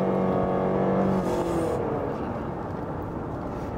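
A Renault Samsung SM6 engine revs up under hard acceleration toward 5,000–6,000 rpm, a rising harmonic drone heard from inside the car that blends into steady road and wind roar.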